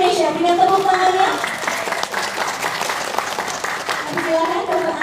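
An audience applauds to welcome the acting Director General of Disease Control at an Indonesian Ministry of Health event. Steady, dense clapping runs throughout, with a voice or tonal sound audible at the start and end.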